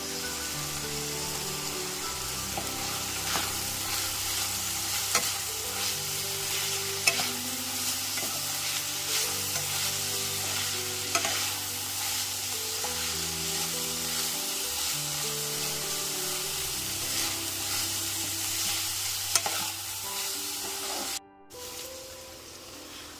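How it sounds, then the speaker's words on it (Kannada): Ginger garlic paste sizzles steadily in hot oil for a chicken samosa filling, with a spoon scraping and stirring the pan in an even rhythm, close and continuous, cutting off briefly near the end. "ಇವಾಗ ನಾನು ಶುಂಠಿ ಮತ್ತು ಬೆಳ್ಳುಳ್ಳಿ ಪೇಸ್ಟನ್ನ ಇದ್ರ ಜೊತೆ ಸೇರಿಸ್ಕೊತಾ ಇದ್ದೀನಿ"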